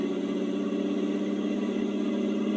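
An automatic truck cruising along gives off a steady, even engine drone with a strong mid-low hum, constant in pitch and loudness for the whole short stretch.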